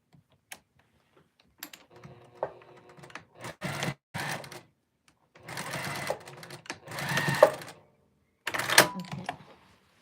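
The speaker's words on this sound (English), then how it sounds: "So we're going to sew this a little bit so it will fit the arm top, the top of the sleeve cap." Machine stitching on a dress sleeve, fitting the top of the sleeve cap, in short bursts of rapid mechanical chatter separated by pauses, close and fairly loud, with no talking.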